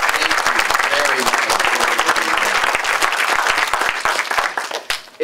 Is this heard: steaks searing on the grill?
no